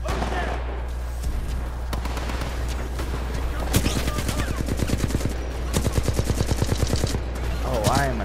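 Gunfire in Titanfall 2, with scattered single shots giving way to long bursts of rapid automatic fire and a few heavier booms, and voices talking underneath.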